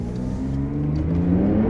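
A fast four-seat car accelerates hard during a full-throttle pull, a low engine roar rising steadily in pitch, heard from inside the cabin over a short stretch.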